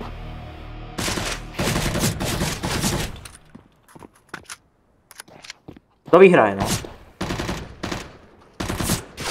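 Gunfire in Counter-Strike: Global Offensive on a desert workshop map: loud, close bursts of rapid automatic fire and single shots in clusters, separated by short gaps, with players talking and laughing between them.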